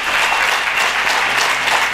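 A crowd claps loudly for Gurumaa at a spiritual gathering, a dense, sustained burst of applause with no voices above it.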